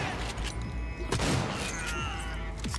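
Gunfire in the video game Cyberpunk 2077, dense continuous shooting with repeated shots and heavy booming impacts, loud and close throughout the short stretch.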